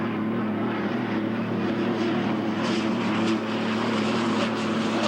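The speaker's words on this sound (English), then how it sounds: "Tom Deeth fighting off the turbines with a Merlin engine-powered boat" Unlimited hydroplane race boats, some turbine-powered and one Merlin-engined, racing on the Ohio River at Evansville, a loud, sustained droning engine roar with a steady hum and faint rising whines.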